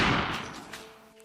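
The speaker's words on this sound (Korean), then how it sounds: "하지만 확신에 찬 듯한 총성이 울렸다" A single loud gunshot cracks at close range near a German villa in 1977, then its echo dies away over about a second.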